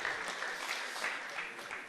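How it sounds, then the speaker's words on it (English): A brief burst of audience applause welcomes a speaker to the stage at a debate on sustainability, a soft, fairly distant patter of many hands that holds steady and begins to taper at the end. "Give her an applause"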